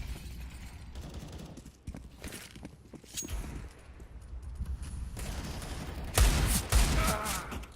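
Pistol gunfire from a Counter-Strike match on the Overpass map, with several sharp shots and bursts over a busy game background of footsteps, growing louder toward the end.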